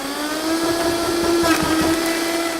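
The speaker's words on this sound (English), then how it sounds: "now we're going to stick that on the blender and put the lid on and give it a whirl." A countertop blender whirls a Korean BBQ rib marinade with chili peppers, its motor giving a steady, loud, close whine that runs unbroken from start to finish with no talk.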